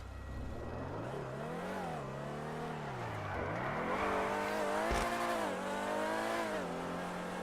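A Dewbauchee Vagner sports car engine in a video game revs up and down continuously, its pitch rising and falling through several sweeps, loud and close, with no talking.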